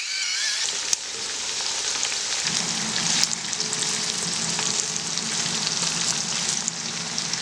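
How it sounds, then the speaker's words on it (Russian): Carrots and pepper frying together in hot oil for plov, a loud, steady sizzle and crackle that fills the whole stretch with no talking. "И сейчас обжариваю все это вместе снова."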